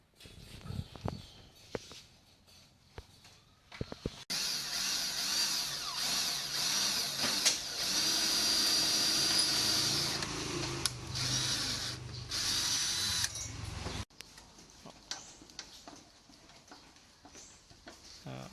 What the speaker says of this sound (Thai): เอาสว่านมาเจาะแล้วก็ใส่น็อตเกี่ยวปล่อย